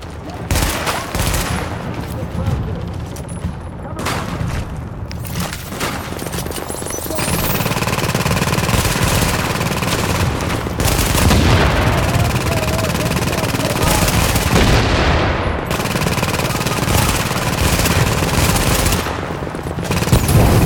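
An automated gun turret fires in The Division at a Hudson refugee camp, a dense, loud, nearly continuous stream of gunfire broken by a few short pauses, with voices briefly talking over it.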